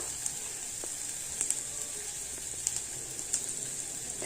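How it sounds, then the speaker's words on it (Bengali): Chopped tomatoes sizzle and fry in a pan with spices for a mixed vegetable dish, a steady hiss with a few light clicks of stirring, close and fairly quiet. "টমেটোগুলো দিয়ে ভালোভাবে নাড়াচাড়া করে হাফ ফ্রাই করে নেব।"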